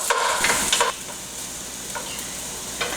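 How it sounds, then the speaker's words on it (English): Onions brown in a hot pan under a soft, continuous sizzle, broken by a few sharp scraping bursts as they are stirred, and then by quieter stirs further on. "I want the onions to caramelize, so I'm going to brown them."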